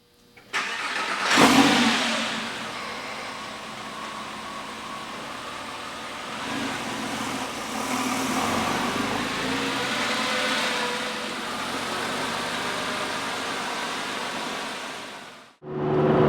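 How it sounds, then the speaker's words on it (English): A Porsche 911 Carrera 4 cabriolet engine is heard on the road in 30-degree cold, with a sharp start-up burst, then a steady mid-pitched drone that rises slightly as the car cruises, with no talk. "we're out cruising. We are in the Carrera 4."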